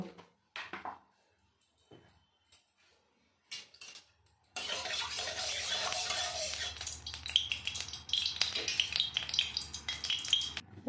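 Mustard oil crackles in a heated wok before tilapia is fried for a Bengali fish curry: a few seconds of quiet talk and light clinks, then a sudden loud, dense sizzle that roars on with popping spatter.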